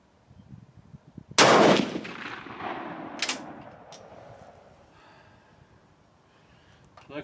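A rifle fires a reloaded GP11 brass cartridge: one loud, sharp report that decays into a lingering echo, followed by faint rustling and quiet.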